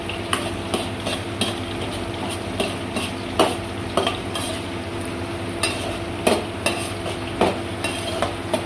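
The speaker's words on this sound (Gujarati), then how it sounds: "મરચી છે એ મસ્ત મજાનું એમાં શેકાઈ જાય તેલની અંદર, ત્યાં સુધી આપણે હલાવવાનું છે" Chili peppers fry in oil over low heat with a steady sizzle, while a utensil stirs and scrapes the pan in regular clinks and taps.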